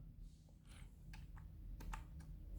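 Code is typed on a keyboard in quick, irregular bursts of soft key clicks at close range, alone over a quiet background hum.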